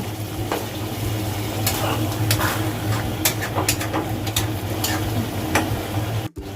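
Shahi chicken korma with milk, green chillies and sugar being stirred in a pan, a soft bubbling sizzle beneath intermittent spoon scrapes and taps against the metal, close by, with a steady hum underneath and no voices.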